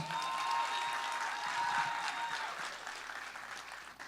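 An audience at a sociocultural stage show claps together in a moderate burst that gradually thins and fades toward the end, heard from some distance in a hall.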